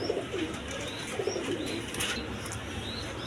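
A pair of black U-shaped Lahori pigeons coos in soft, repeated throaty phrases at close range over a constant low background hum.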